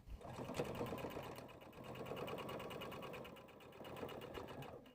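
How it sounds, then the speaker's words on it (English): A sewing machine runs steadily, top stitching fabric for a sippy sling, with a continuous fast mechanical whir and needle rattle, close and alone. "we're going to step to our machine and add a top stitch"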